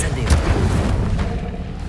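An Incendio fire spell cast in Hogwarts Legacy gives a loud, close burst with a sharp booming onset, followed by a rumbling whoosh that trails off within two seconds.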